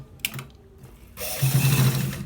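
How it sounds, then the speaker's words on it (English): Sewing machine stitching the lower part of a shirt collar, starting with a few short mechanical clicks and taps, then settling into a steady, close whirring run of the needle. "We are stitching it to the very down part"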